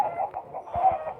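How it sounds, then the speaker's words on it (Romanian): Chicken clucking on a farm, a few short low calls close by, broken up with brief pauses over a faint background hum. "că a ieșit o găină"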